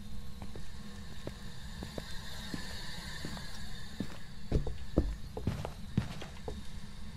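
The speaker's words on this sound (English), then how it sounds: "Oh, I just heard footsteps." Faint, irregular footsteps tap and knock over a steady low hum during a ghost-hunting video game, with a few louder thuds near the end.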